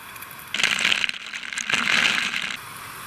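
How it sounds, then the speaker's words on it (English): Ducklings splashing in shallow bath water, two bursts of close, bright wet splashing and flicking droplets separated by a brief pause, with soft background room noise between. "Giving the ducks a bath."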